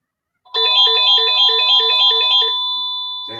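A mobile phone rings loudly and close by, playing a repeating electronic chime pattern for about two seconds, then a single sustained tone lingers and fades, with no talking.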